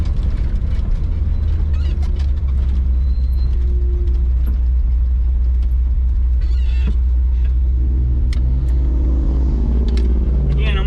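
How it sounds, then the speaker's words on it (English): An unloaded log truck with a two-speed axle pulls away from a complete stop in second gear, its diesel engine a steady, loud low rumble that builds in pitch as it gathers speed inside the cab. "Take off in second gear here since we're at a complete stop."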